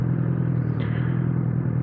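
A 2009 Honda CBR1000RR Fireblade with an Arrow exhaust rides at speed, its engine a loud, steady, deep drone with rapid pulsing, under wind rush.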